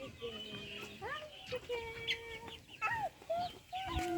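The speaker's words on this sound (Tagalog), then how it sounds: "Black Sumatra chicken." A Black Sumatra rooster at a zoo gives a series of short, clucking and squawking calls at irregular intervals, fairly close, while people talk faintly in the background.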